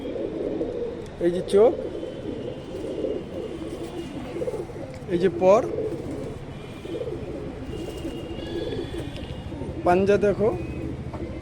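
A male pigeon handled up close coos in a few short bursts, spaced several seconds apart, while someone talks continuously over a steady murmur of other birds.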